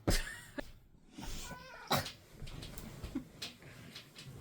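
A young cat with a puffed-up tail moves about indoors, giving faint meow-like cries among scattered soft knocks and rustles, quiet and close in the room.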